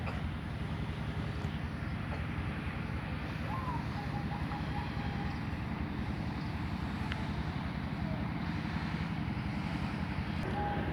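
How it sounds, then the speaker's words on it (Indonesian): A diesel-powered rice mill runs in Tuksongo village near Borobudur, heard as a steady, continuous mechanical drone from some distance away. "Dari sini terdengar suara semacam diesel, itu adalah penggilingan padi aren."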